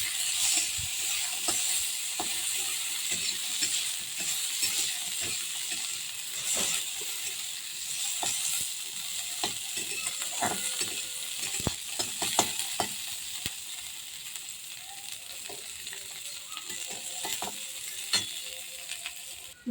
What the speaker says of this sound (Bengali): কাজু কিশমিশ ভাজে নেব, ব্রাউন কালার হতে দিচ্ছি।